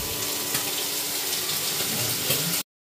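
Tap water gushes steadily into a sink while food is rinsed, a loud close hiss with faint splashing that stops abruptly at the end.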